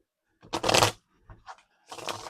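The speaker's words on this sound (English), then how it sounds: "now that I'm shuffling the cards" Tarot cards riffle and slap together in a few quick shuffling bursts, close and crisp, separated by short pauses.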